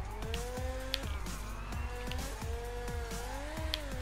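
In a video game, a car drifts with wavering, pitch-sliding tire squeals over a constant engine drone. The squeals repeat in short swoops for about four seconds at a steady, moderate level, and no one speaks.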